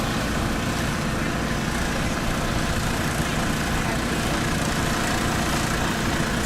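A paramotor engine idles at a festival of flight with a constant, even mechanical drone close by, steady throughout with no changes in pace.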